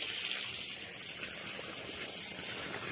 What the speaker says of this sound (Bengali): দেখো দেখো সব গাছে জল দিচ্ছে দাদা।